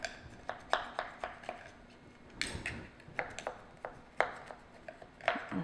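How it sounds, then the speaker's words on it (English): Sharp knife cutting through a pan of raspberry oatmeal squares, giving a run of crisp, close scraping clicks and cuts at an irregular pace, with no talking. "I like to take a sharp knife and then just run it around the inside edge here."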